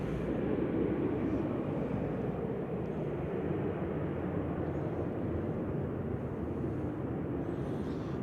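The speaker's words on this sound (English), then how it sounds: "Right now, flight 191 over to Belfast there," An airliner on flight 191 to Belfast, registration G-RUKN, at Manchester Airport. A steady, moderate jet rumble persists without a break, somewhat distant, with no talking.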